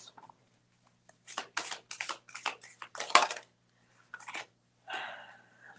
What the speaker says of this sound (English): I'm going to shuffle for that.